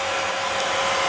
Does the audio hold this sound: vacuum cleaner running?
yes